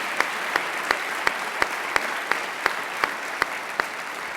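Audience at a college convocation applauding new faculty members, a sustained, fairly loud round of clapping from a crowd with a steady rhythm of sharper individual claps cutting through, no speech over it.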